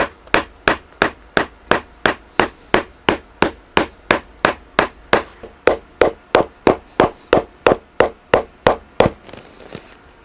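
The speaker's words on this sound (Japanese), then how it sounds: "今度はこっちのハンマーの平たい面で叩いて、今の打痕を消していきます。" A hammer taps steadily on a stacked leather shoe heel, about two dozen crisp, evenly spaced strikes in a regular rhythm, loud and close, with no talking.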